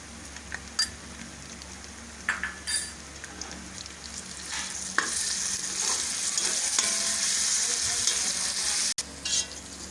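Ginger and garlic paste frying in a pan for beef korma: a steady, close sizzle with scattered pops and spits that grows louder and denser partway through, with faint stirring scrapes and no speech.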